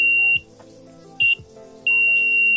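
A homemade cable continuity tester's buzzer emits three loud, steady high-pitched beeps, one short and two longer, separated by quiet gaps with faint handling clicks.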